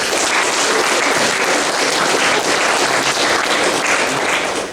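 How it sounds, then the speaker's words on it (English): A school leavers' assembly gives its teachers a big round of applause, a loud, dense, sustained roar of many hands clapping at once, steady throughout. "So please give a huge, well-deserved round of applause to those guys."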